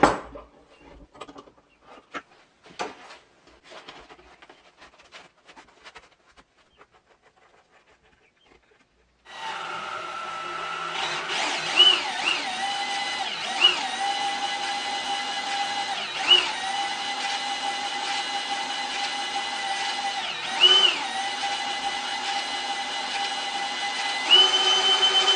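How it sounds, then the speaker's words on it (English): A homemade sanding rig with a belt starts after quiet handling clicks, then runs as a steady, loud motor whir with a rhythmic periodic tick from the belt seam, continuing without pause to the end. "Well, I think I'm ready to try this with a sanding belt."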